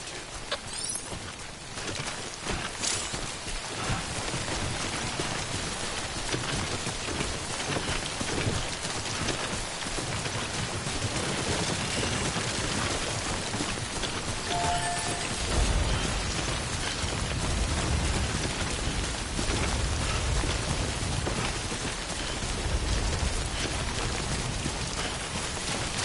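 Timefall rain pours steadily in the game Death Stranding, a dense, continuous hiss of drops that grows heavier and deeper about halfway through, with no voices.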